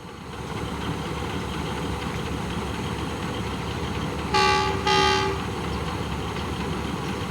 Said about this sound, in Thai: เป็นขบวนรถธรรมดานะครับที่ 255 ต้นทางสถานีทนบุรีปลายทางสถานีหลังสวนนะครับ